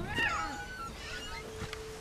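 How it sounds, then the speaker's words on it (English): Cat in the game What Remains of Edith Finch gives a short, fairly faint meow with a rising-then-falling pitch, followed by quieter soft vocal sounds over a low background. "Oh, look, it's a cat."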